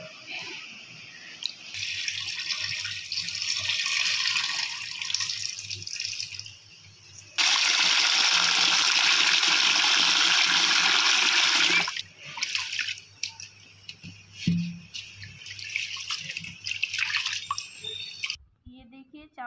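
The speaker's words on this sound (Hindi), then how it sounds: "पहले हम इसको अच्छे से धो लेंगे फिर फूलने के लिए रखेंगे" Rice being washed by hand in a bowl of water for vegetable fried rice, a steady swishing and splashing that swells to a louder rush midway, with trickles and drips between, and no one talking.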